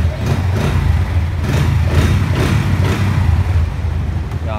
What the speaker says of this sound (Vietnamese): Con này thì bô nó cũng rất là giòn nha anh em nhé.